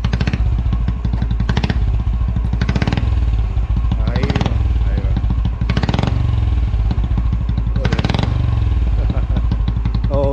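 A vintage Royal Enfield Bullet engine with a double silencer runs loud and close, its steady bassy thump broken by several short revving surges.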